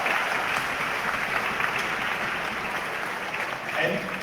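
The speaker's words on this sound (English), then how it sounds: "Give him applause." A crowd at a political event applauds continuously, the dense clapping holding at an even level throughout with no single claps standing out.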